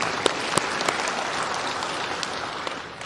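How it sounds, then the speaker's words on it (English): Steady clapping from an audience at a men's gathering against violence, a continuous wash of claps with a few sharper individual hits standing out. "Let me clap to her."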